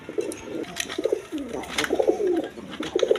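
Pigeons cooing in a loft of local and foreign coloured breeds kept for sale, several soft, throaty coos overlapping in a steady low murmur with faint chirps above.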